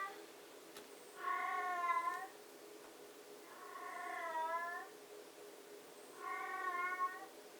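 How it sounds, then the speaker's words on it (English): A house cat meows three times in the background, each drawn-out call a second or so long with pauses between, over an otherwise quiet room. "Ignore the cat in the background, really. She decides to do this when I'm filming."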